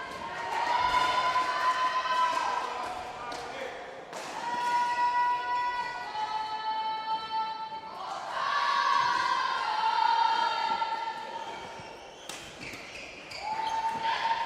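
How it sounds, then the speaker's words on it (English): Crowd cheering at a national tertiary badminton championship semi-final in a hall, loud sustained chanting and whooping in rhythmic waves, with shoe squeaks and bursts of noise breaking through. "Targo's going ham with the cheering right now"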